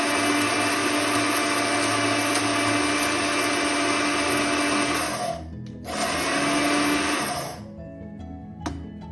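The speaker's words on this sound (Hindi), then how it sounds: "अब मैं कंटिन्यू दबा सकती हूँ, क्योंकि बड़े टुकड़े नहीं है तो अब मिक्सी खराब नहीं हो सकती है" An electric mixer grinder grinds whole garam masala spices in a loud, steady whirring roar that cuts off briefly, restarts, then stops, leaving faint rattling.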